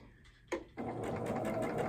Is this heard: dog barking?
no